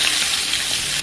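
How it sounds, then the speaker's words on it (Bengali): A pangas fish head fries in hot oil in a pan, giving a loud, steady sizzle with a dense crackle throughout the short stretch. "ভাজা শেষ, এখন মাথাটা ভেজে নেব"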